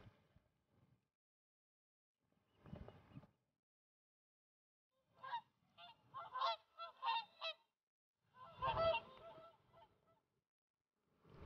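Whooper swans that have migrated from Iceland give bugling, honking calls in scattered bursts, with a cluster of overlapping calls toward the middle and end, moderately distant against a quiet background.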